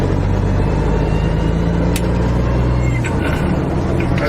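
A truck engine drones loud and steady at close range while the driver float shifts an 18-speed gearbox, and the engine pitch drops partway through as the gear changes.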